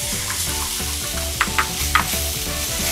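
Onions, garlic and mushrooms sizzling and frying in a pan for a mushroom sauce, a constant close crackle with a few brief clinks of stirring.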